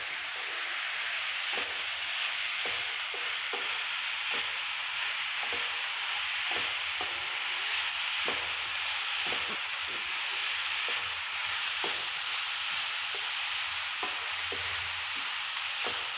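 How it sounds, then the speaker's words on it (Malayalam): Papaya thoran sizzles and hisses steadily in a pan while a spoon stirs it in soft, repeated scrapes and taps, close and continuous, with no voices. "തുറന്ന് നോക്കിയിട്ട് ഇളക്കി കൊടുക്കണേ."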